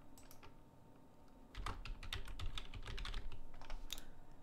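Keys clack on a computer keyboard as a password is typed in a quiet room, a quick, uneven run of close taps that starts sparse and grows busier, with no talk.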